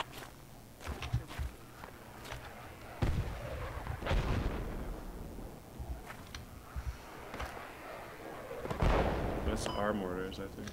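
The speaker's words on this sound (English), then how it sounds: "That's our mortars, I think." Mortar fire in the military video game Project Reality, a few heavy thumps and distant booms scattered among footsteps and game ambience, with players talking over radio-like chatter.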